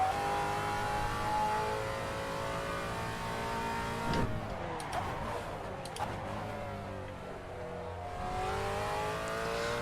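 A racing game's car engine screams at full throttle, a loud sustained rising whine that climbs through gear changes with brief dips and rebounds, heard alone on a circuit the driver doesn't know.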